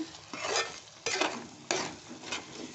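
Brinjal masala curry with asafoetida and salt is stirred in a pan, four sweeping scrapes of a spoon at even intervals over a faint background sizzle.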